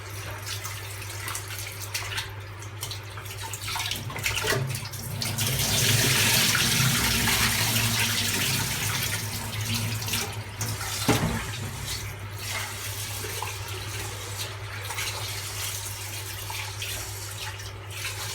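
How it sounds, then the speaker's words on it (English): Tap water runs steadily into a bowl as rice is washed in a kitchen, a loud continuous splashing rush that swells in the middle, with no talking. "So all I'm doing is washing the rice."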